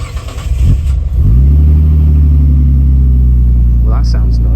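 Nissan Stagea wagon with a big turbo, its engine revving up from a rough idle into a loud, sustained droning rumble close by, with voices briefly audible over the start.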